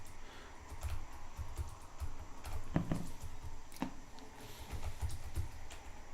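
Typing on a Razer gaming keyboard, irregular clicks and taps at moderate pace, close but fairly quiet, over a low background hum.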